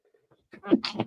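A single quick human sneeze, preceded by a couple of faint breaths and ending in a sharp burst, heard close up in a casual football chat setting.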